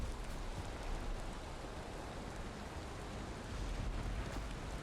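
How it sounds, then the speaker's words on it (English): Storm in Valheim with dense, steady rain hiss and a low thunder rumble filling the whole stretch evenly, with no talk. "Oh boy, she's really stormy out here."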